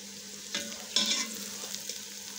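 Potato and radish pods fry in a pan with a soft steady sizzle, plus a couple of brief scraping stirs near the start, quiet and close with no speech.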